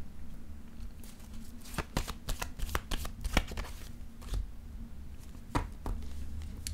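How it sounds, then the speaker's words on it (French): Tarot cards are handled and laid down in a quick run of crisp flicks and slaps, close up over a low steady hum, with no speech. "Je vais déposer une autre carte."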